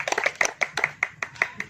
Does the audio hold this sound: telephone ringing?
no